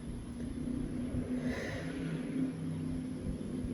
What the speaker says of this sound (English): That's a truck that made that sound.